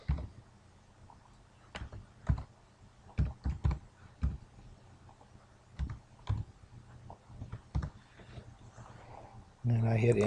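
Card number being typed on a computer keyboard, a quiet series of separate key clicks in short bursts with pauses, ending with a louder noise at the very end.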